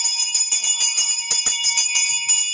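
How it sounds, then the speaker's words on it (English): A bright, metallic time-warning bell at a theatre comedy show rings rapidly and continuously, a steady electric clang with sharp repeated strikes, loud and close with no voices. "a bell like that."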